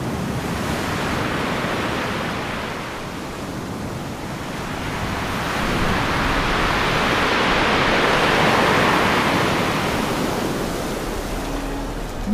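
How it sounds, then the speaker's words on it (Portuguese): Small, gentle waves lapping steadily at a river's edge, a soft continuous wash that swells slightly midway and stays close and even throughout, with no voices. "Barulho de ondas pequeninas."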